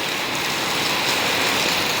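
Steady rain pours down outdoors near Hastagiri in Jaliya, a dense, even hiss of drops hitting surfaces with no voices over it, close and continuous.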